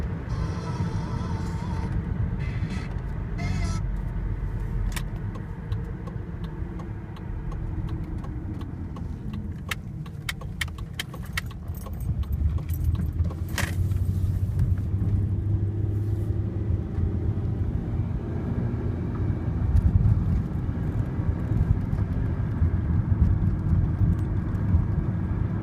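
Inside a moving 2002 Mercury Villager, a low engine and road rumble builds as the van gets going, with rattles and jangling clicks early on and a steadier drone later.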